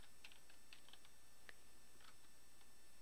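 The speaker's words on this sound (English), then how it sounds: "So I'll just type Python" Someone types on a computer keyboard in a few quick, light bursts of key clicks with short pauses between them, heard close against a quiet background hum.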